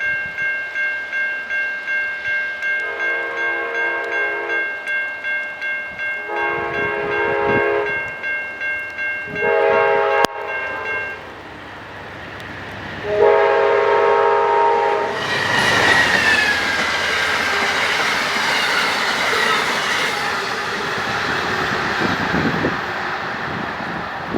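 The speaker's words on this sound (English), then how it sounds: "Amtrak 284 from Niagara Falls heading to New York" An Amtrak passenger train sounds its horn in several long blasts on a cold, rainy day in Buffalo, then rumbles past loudly with clattering wheels and rushing noise.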